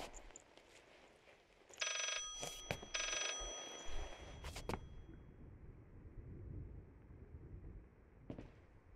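Telephone ringing in the horror video game Layers of Fear, a bright metallic bell ring in two bursts amid sharp clattering hits, then fading into quiet.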